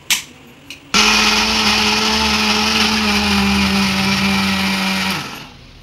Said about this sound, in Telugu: మెత్తగా మిక్సీ పట్టుకోవాలి.